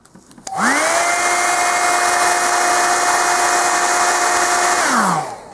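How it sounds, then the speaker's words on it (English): A hair dryer, used to dry paint on a miniature figure, switches on and blows steadily with a whining hum for about five seconds, then winds down as it shuts off. "So now we use our hairdryer again. So sorry for the sound now."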